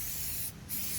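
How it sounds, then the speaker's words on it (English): Armor All protectant sprayed onto plastic trim in a single quick hissing burst, close and brief, with a short pause in the middle of the spray. "So I'm just going to cover this up and give it a quick spray."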